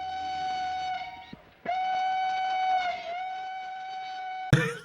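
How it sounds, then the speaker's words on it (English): A coal mine whistle from the 1941 film How Green Was My Valley sounds two loud, steady, harmonic blasts with a short gap between them, cut off by an abrupt noise at the end. "Make the sound whistle. Make the whistle."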